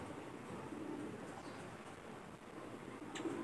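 Pigeons in a breeder and layer loft cooing softly in low, rolling murmurs against a faint steady background, with no talking.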